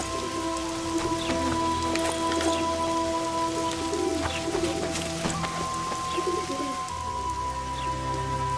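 Steady rain pours down in the fantasy game The Witcher 2, a constant hiss of drops on surfaces with scattered bird calls and faint tonal chimes over it, no voices.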